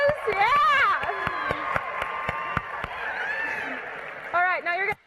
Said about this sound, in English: Maybe he needs a little bit of applause.